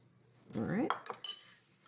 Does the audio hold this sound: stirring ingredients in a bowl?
yes